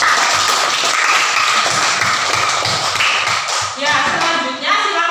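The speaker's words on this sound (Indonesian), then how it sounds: "Beri tepuk tangan untuk kelompok" Loud, dense applause from a classroom group for the third presenting group, continuous rapid clapping near and full, thinning slightly toward the end.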